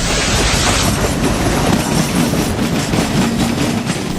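A Mumbai suburban railway train running, with a loud, steady roar of wheels on rails and rhythmic clickety-clack across the whole stretch, close by, with no talking.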